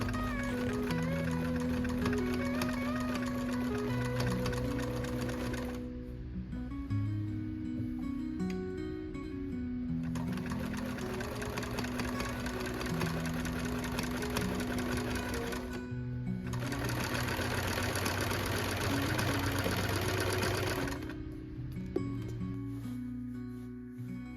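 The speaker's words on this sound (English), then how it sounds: "that's just what I'm doing, is getting this apron all sewed together." A sewing machine stitches an apron in long, close, rapid runs of needle chatter broken by short pauses, with a faint higher whine over the motor hum.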